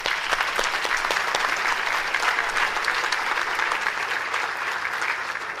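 Steady, full applause from a gala audience at the 28th Annual Red Ribbon Gala, a dense wash of many hands clapping continuously at close range with no talk over it.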